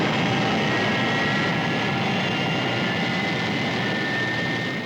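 Thunderbird 1, the fictional rescue craft from the Thunderbirds TV series, taking off with a steady, loud jet-like roar and hiss that holds constant and close throughout, with no talk over it.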